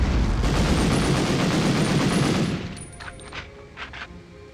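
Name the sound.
bazooka and gunfire in Medal of Honor video game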